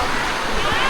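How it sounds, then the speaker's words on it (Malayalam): Rushing water from a tiered waterfall in a Thai village, a steady broadband roar of falling and splashing water filling the whole moment, close and constant. "ഇങ്ങനെ തട്ട് വെള്ളച്ചാട്ടമാണ് കേട്ടോ"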